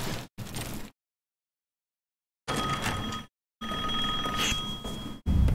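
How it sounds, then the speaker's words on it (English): A telephone rings in Resident Evil Village, sounding in loud bursts separated by stretches of complete silence. "The phone ringer?"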